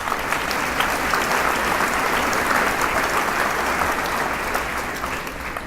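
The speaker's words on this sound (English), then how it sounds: "Please give a round of applause for Mr." Sustained applause from a high school commencement audience welcoming the superintendent, a dense steady wash of many hands clapping at even loudness for several seconds, with no talk over it.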